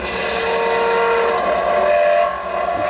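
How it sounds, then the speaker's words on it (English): Chisel cutting a wooden bottle stopper on a spinning lathe, making a loud, continuous rough shaving and whirring that stays close and steady throughout. "I'm rolling the chisel, or pulling the chisel toward the center, toward 90 degrees to center"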